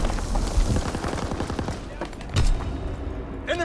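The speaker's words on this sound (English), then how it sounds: "Strafing run inbound." Strafing-run gunfire in Call of Duty: WWII on the London Docks map, a rapid burst of machine-gun fire followed by heavy impacts, with game voices speaking over it.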